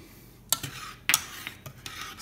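A spoon clinks and scrapes against a metal pot while espresso sauce comes to a boil, several sharp metallic knocks spaced apart over a low bubbling background.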